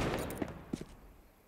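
Gunfire in Counter-Strike 2 on the Inferno map: a few quick, fairly faint shots in rapid succession over a short span, heard alone without talk.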